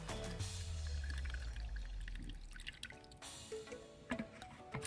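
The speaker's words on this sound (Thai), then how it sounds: "เทใส่ ถังฉีดพ่นหรือกระป๋องป๊อกกี้ก็ได้นะครับ" Chilli-based spray mixture poured into a sprayer tank or spray can, giving a continuous low gurgling pour with dripping and splashing, close by and steady, then thinning out to scattered trickles and drips.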